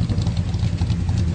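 A 1965 Chevy Impala SS with a 396 engine runs steadily at close range, a dense low rumble with mechanical clatter and a slight waver in level through the short stretch, no voices over it.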